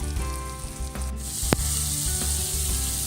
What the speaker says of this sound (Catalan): això ja s'acosta a lo que és un senyor sofregit. Ben torradet, ben confitadet